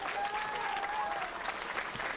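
A crowd at the AGDQ 2014 speedrun event claps and cheers steadily throughout, with a thin whistle-like tone rising above the dense applause.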